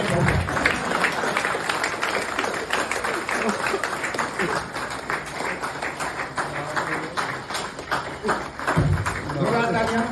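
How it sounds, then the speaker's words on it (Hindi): Standing ovation at a superannuation and honour function for a retiring engineer, loud sustained clapping from a crowd with voices mixed in throughout. "खड़े होकर जोरदार तालियां बजाएं।"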